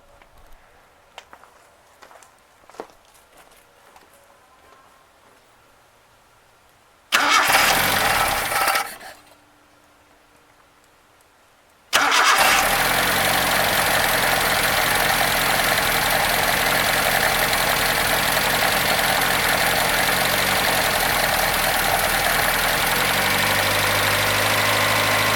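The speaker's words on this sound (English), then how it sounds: "is running and circulating and squirting fuel out of the bottom of the fuel pump" A 1981 Datsun 210 car with a leaking fuel pump cranks briefly, falls silent, then catches and settles into a loud, steady idle that continues close by without talking.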